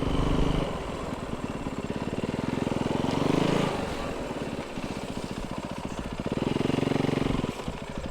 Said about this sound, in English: I wish I could be snow biking all day.